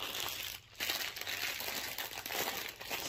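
Plastic bags holding diamond painting drills crinkle and rustle steadily as they are opened, a close, continuous crackling texture with a brief dip partway through.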